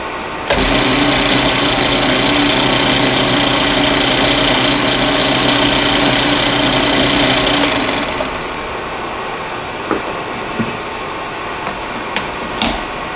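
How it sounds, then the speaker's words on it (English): A metal lathe spinning a knurled metal part and cutting a small chamfer on its leading edge, with a loud steady whirring hum for about seven seconds before winding down, followed by a few faint clicks. "I'll put a little chamfer on this leading edge here."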